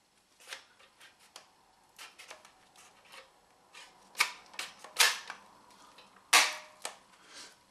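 A cheap toy blaster from a comic magazine firing, heard as a series of sharp, close clicks and snaps spaced irregularly, with a few louder cracking shots standing out among lighter mechanical ticks.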